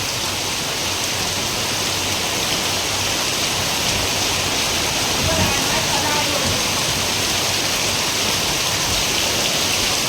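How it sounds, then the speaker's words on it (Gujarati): Water pours steadily from above directly into a tank, a loud, continuous rushing splash that holds constant throughout with no pauses. "પાણી આવે છે ઉપરથી સારું ડાયરેક્ટ ટાંકામાં જઈને"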